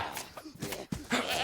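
A goat bleats in the DayZ video game, its wavering cries rising and falling in short bursts over a busy game background.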